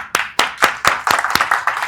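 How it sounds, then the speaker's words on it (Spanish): Scattered audience clapping at a live talk, a handful of sharp, separate claps arriving in an uneven rhythm, fairly close and distinct rather than a full ovation. "Vamos, un aplauso por eso, por favor."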